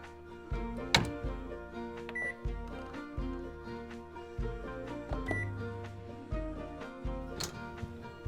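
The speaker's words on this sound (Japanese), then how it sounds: "耐熱ボウルに入れてふんわりラップをして600ワットの電子レンジで3分加熱します。" A 600-watt microwave oven heats food in a heatproof bowl loosely covered with plastic wrap, giving a steady electric hum with faint ticking and clicking underneath.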